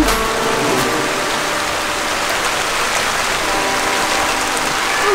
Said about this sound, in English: It's already started to rain.